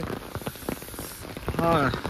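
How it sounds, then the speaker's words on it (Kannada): Steady rain patters across the whole stretch, a dense hiss of drops on a surface, with a voice speaking briefly near the end. "ಮಳೆ ಈಗ ಜಸ್ಟ್ ಒಂದು 2 ನಿಮಿಷದ ಹಿಂದೆ ಬಂದಿದ್ದು ಮಳೆ"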